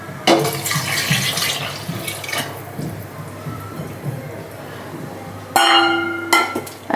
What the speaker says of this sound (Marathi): आता याच्यामध्ये आपण पाणी घालूया